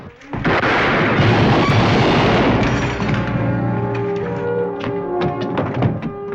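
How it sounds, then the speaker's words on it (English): Gunfire booms through a western shootout, a sustained loud roar of shots and echoing blasts that crowd the scene, followed by scattered sharper cracks and thuds as the volley trails off. "they come in here shooting at me"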